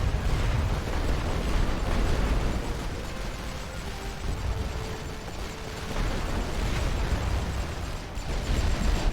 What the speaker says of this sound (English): Full barrage. Start the barrage. Just fire a barrage to hit them.